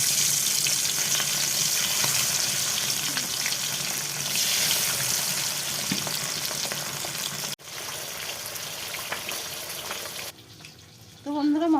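Fish pieces fry in hot oil with a loud, steady broadband sizzle for most of the span, briefly cutting out and resuming softer, then dropping away near the end as a faint voice is heard.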